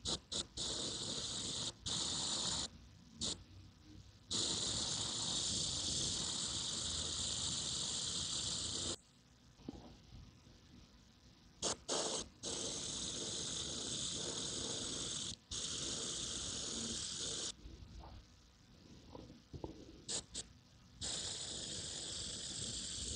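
An airbrush lightly misting paint to shape feathers hisses steadily and close, in long bursts broken by short pauses and quieter gaps.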